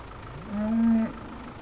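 A cow on a farm in Farming Simulator 2017 gives one drawn-out, fairly loud moo that rises, holds and fades over a quiet background.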